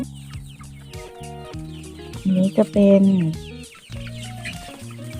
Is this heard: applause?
no